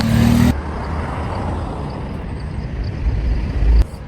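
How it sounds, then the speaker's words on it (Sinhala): A steady, low roar of an airplane passing overhead in Dubai, continuous throughout and rising slightly near the end, with no voices. "අන්න ප්ලේන් එකක් යනවා"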